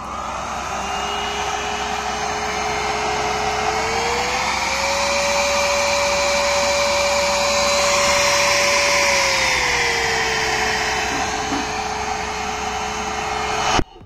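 A cordless battery vacuum cleaner runs in turbo mode, giving a loud, steady close-up whine whose pitch climbs, holds higher for several seconds, then drops back, with no voices over it.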